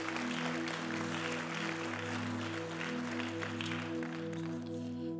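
Church congregation applauding at a Spanish-language sermon, a steady wash of clapping over sustained organ or keyboard tones, moderately loud and continuous throughout.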